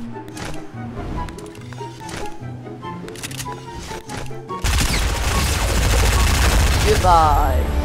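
Video game gunfire starts in the middle and stays loud, a dense, rapid stream of shots that carries on to the end after a quieter rhythmic stretch.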